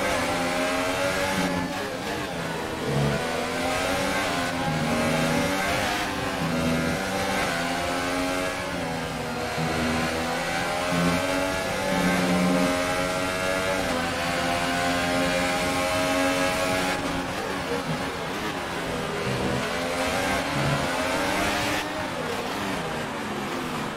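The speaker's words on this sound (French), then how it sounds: "on vous a laissé profiter du son du moteur Mercedes" Mercedes Formula 1 engine in the F1 2018 racing game, a loud continuous high-pitched whine rising and falling through gear changes as the car accelerates and brakes, heard from onboard.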